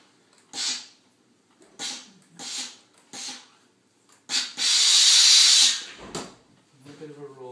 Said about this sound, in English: Make sure you get the steam out of it.